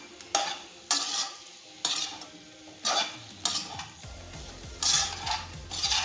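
Chicken pieces frying in an Andhra-style chicken fry, stirred in a pan: repeated scraping strokes of a spoon against the pan roughly once a second, over a steady background sizzle, close and clear with no talking.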